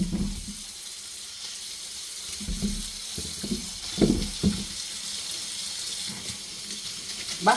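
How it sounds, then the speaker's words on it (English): Green bananas are washed under a running kitchen sink tap, a steady hiss of water with uneven splashes and knocks as the fruit is handled. "washing my banana in the sink"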